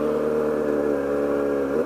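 Car exhaust recorded close up to a straight pipe, a steady droning rumble with strong low harmonics and a slight rise in pitch near the end, loud and alone.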